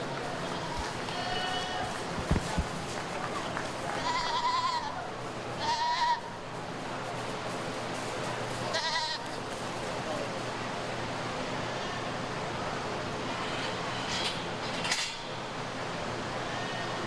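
Goats bleat now and then in a show ring, with short nasal cries scattered among steady indoor crowd murmur, clatter and an announcer talking over a loudspeaker.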